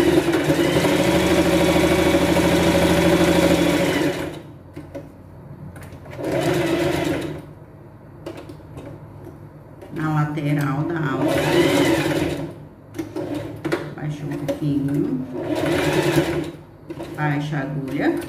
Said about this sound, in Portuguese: Baixa a agulha, costura a outra lateral